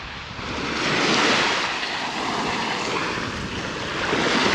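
Sea waves wash and break continuously on the shore at Swanage, Dorset, a loud, close, steady surf rush with some wind noise on the microphone and no voices.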